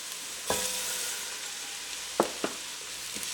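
Two cups of Arborio rice fry in a pan with garlic and onions for risotto, making a constant close sizzle with a few sharp spoon clicks and stirring knocks.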